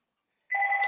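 A mobile phone rings once, a steady two-tone electronic tone starting halfway through and continuing to the end, fairly close and clear with no talk over it.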